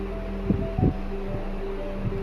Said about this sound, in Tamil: இப்போ நம்ம அரிசி போட்டு அரைக்க ஆரம்பிச்சிடலாம்.